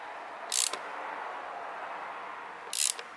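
Bolts on the air filter housing of a 2011 Opel Corsa D 1.3 CDTI facelift being tightened by ratchet, heard as two short bursts of clicking about two seconds apart over a steady background hum.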